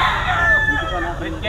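A rooster crows at a stag market in a grotto where fighting cocks of the Red Kelso line are sold, a single harsh call rising over a busy outdoor murmur, with people talking nearby.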